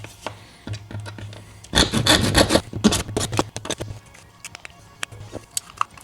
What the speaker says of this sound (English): I'm just gonna work on clearancing this with a saw.